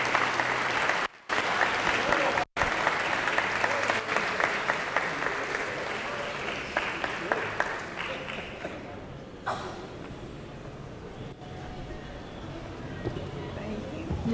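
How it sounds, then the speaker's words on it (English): A crowd applauds at a hospital's 85th anniversary celebration, dense clapping that fades slowly over several seconds, with a few voices and shouts mixed in. "Let's give her a round of applause."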